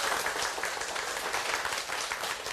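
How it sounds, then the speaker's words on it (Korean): An audience at a real estate talk breaks into dense, sustained applause that stays loud and even for the whole clip. "내 집 마련하고 싶은 열광 한번 박수 한번 쳐주세요."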